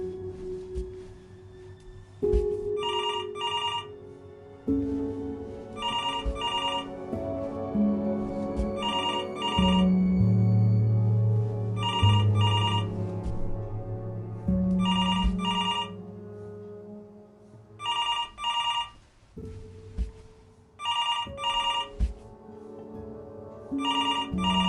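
A telephone rings in the video game Before Your Eyes, repeating evenly spaced electronic double rings over a sustained musical score, with no voices.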